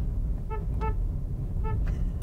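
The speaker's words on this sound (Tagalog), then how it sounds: "I-try din natin yung busina." Two pairs of short, bright horn toots from a 2021 Changan Alsvin sedan, each a quick double beep, heard nearby over a low steady background rumble.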